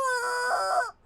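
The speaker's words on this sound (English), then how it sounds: "They're pulling out the rubber chickens, dude." A rubber chicken toy lets out a single loud, strained squawking squeal about a second long, held steady and then cut off abruptly, heard alone.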